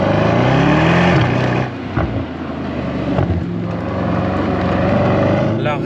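A Mercedes-AMG GT Brabus 800 sedan, over five metres long and nearly 2.2 tonnes, accelerating hard, with a loud, sustained engine roar climbing in pitch, a brief shift dip, then pulling again, heard close from inside.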